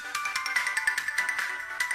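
A telephone ringtone plays loudly and alone, a bright electronic melody of quick repeated pulsing tones.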